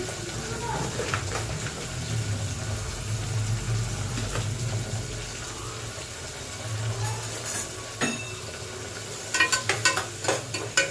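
Chopped onions, salt, curry leaves and green chilies fry in a pan for a brinjal curry, a steady low sizzle with stirring scrapes and sharper spoon clatters near the end.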